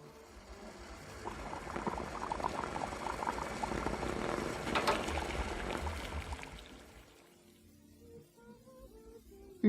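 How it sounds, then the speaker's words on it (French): Water boiling in a saucepan, a dense bubbling roar that builds for several seconds, then drops away to quiet with a few small clinks at the end. "L'eau qui bout dans la casserole."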